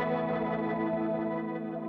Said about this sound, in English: And here I could go to, say, a rotary speaker, which I think sounds wonderful for this particular type of patch.